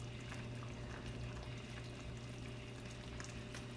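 Chunky chicken sauce pours around a keto chicken dish in a quiet kitchen, giving a soft continuous wet trickle and splatter with small irregular plops, faint and unbroken by talk.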